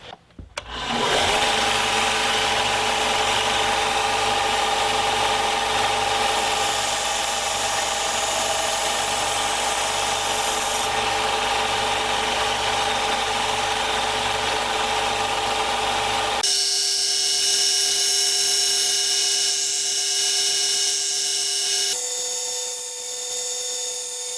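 A belt grinder running at 240 grit whines steadily while finishing a handmade neck knife, loud and continuous, with the tone shifting sharply partway through as the blade is pressed and eased.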